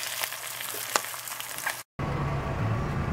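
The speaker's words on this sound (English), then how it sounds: "So it looks like Jimmy is making some grilled pork chops." Pork chops sizzle on a grill, a steady close hiss of frying fat with a brief cut out partway, then the sizzle resumes, fuller and louder.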